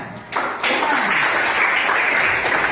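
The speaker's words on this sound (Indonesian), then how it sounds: "tepuk tangan buat Agnia dan Rafika" Students applauding a group in a classroom, a burst of many hands clapping that starts sharply and continues as a steady, fairly loud patter, with a few voices mixed in.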